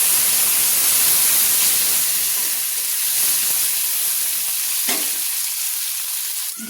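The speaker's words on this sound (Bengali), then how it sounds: "দেখুন আমি যে একটা টমেটো কুচিয়ে রেখেছিলাম সেটা আমি দিয়ে দিলাম" Chopped tomato hits hot oil for a Bengali pui shak, mussel and prawn curry, setting off a loud, steady sizzle and hiss of frying that softens slightly toward the end, with a brief stir or clatter near the close.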